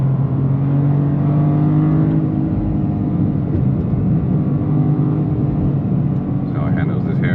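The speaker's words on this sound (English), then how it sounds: "Very nice auto rev match there." A 2025 Toyota GR Corolla engine drones steadily under load on a downhill run, its tone dipping briefly with a rev-matched downshift, loud and continuous throughout.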